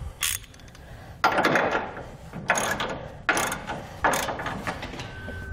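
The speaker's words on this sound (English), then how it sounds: "followed up by using a 3/4 inch socket" A ratchet turning a 3/4 inch socket tightens a rear hitch bolt under a 2015 Chevrolet Silverado truck bed during a Curt gooseneck hitch install, giving five bursts of rapid clicking, close and fairly loud, with no talk.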